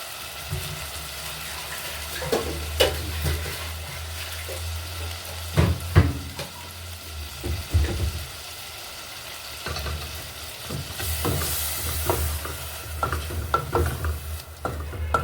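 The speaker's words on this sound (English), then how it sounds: "I'm gonna add my fresh blended pepper right now." Fresh blended pepper stirred into a pot of plantain porridge, soft sizzling under intermittent scraping and clanking stirring strokes, close, with short bursts and quieter gaps and no speech.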